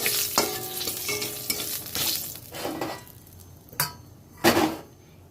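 A dried red chili and bay leaf hiss briefly in hot oil left from frying pointed gourd, with a few sharp metallic stirring clinks and scrapes between quieter stretches of faint sizzling.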